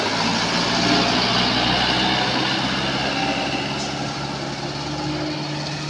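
A heavy truck engine runs steadily while towing a heavily loaded Colt Diesel bound for Sinabang, a loud continuous low rumble throughout with no talk.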